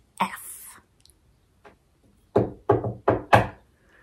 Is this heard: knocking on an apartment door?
yes